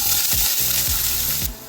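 Oil sizzles as it heats in a pan for Kerala-style fish curry, a loud continuous frying hiss broken by several short scraping strokes before it quiets slightly at the end.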